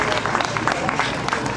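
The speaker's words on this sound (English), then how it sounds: "So give the entire Watkins family a big round of applause." A crowd at a community event claps for a family in a brief, fairly loud burst of applause, with a faint voice mixed into the clapping.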